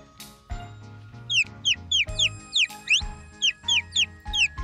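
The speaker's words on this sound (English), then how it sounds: "Did you guess bird?" Bright, high bird chirps repeat in quick bursts over a low background, a lively run of short whistled notes.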